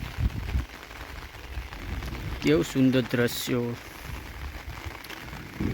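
Heavy monsoon rain falls over a hilltop and village in Banaskantha amid thunder, a steady broadband hiss running throughout while someone talks over it in bursts.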